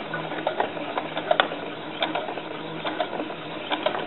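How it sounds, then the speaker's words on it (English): A sewing machine stitches doll dress fabric in a steady, close mechanical whir with rapid ticking of the needle, running continuously without pause. No one speaks. "So I'm sewing opposite of what they'll tell you how to do that in your sewing class."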